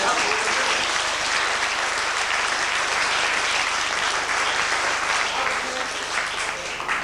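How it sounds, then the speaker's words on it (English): Audience at a 1995 school magic show at Manchester Grammar School clapping steadily, a dense sustained applause throughout, fairly loud and close, tapering slightly near the end. "Will you give them a clap, please?"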